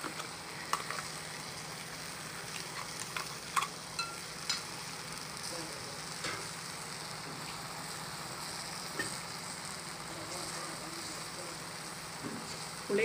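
Lady's finger (okra) sautéing in a pan for a Nagercoil-style avial, giving a steady close sizzle with scattered spatula clicks and scrapes throughout and no voices.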